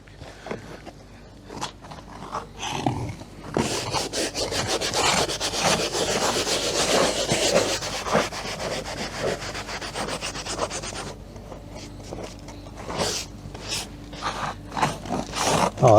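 Stiff-bristled nail brush scrubbing the fabric headliner of a Ford AU, a steady rasping rub that swells and runs continuously through the middle, with scattered shorter strokes and knocks at the start and end.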